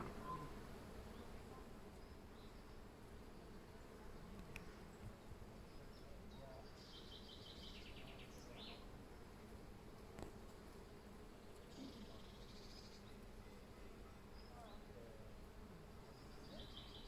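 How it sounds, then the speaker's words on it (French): A dense swarm of bees hums steadily through a flowering linden tree in a garden, a continuous low buzzing drone that fills the whole stretch at moderate level, with faint birdsong and small rustles scattered above it. "ça grouille des abeilles"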